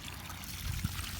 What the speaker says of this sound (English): the water is still coming